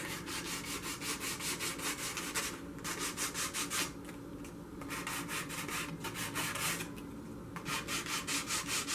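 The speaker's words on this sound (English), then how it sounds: "Then we have our sanding block." Steady, rhythmic rubbing of a sanding block over a shim card, repeated strokes with a few brief pauses, close and fairly loud, no talking.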